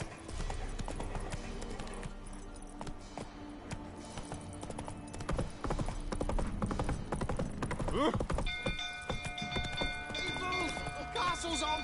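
Horse hooves galloping in The Witcher 3 on the way to the Baron's castle, a steady rhythmic clip-clop close by with creaking tack, joined near the end by a bright sustained tone as someone talks over it.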